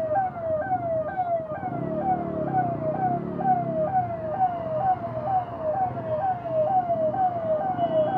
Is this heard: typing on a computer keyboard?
no